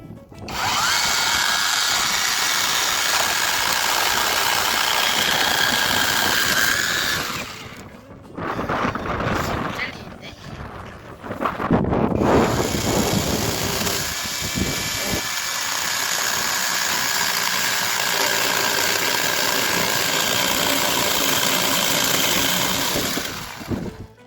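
A Livrea 12-inch rechargeable electric chainsaw whines loudly and steadily, stops for a few seconds with some handling noise, then whirs up again and runs on at an even pitch until it cuts off.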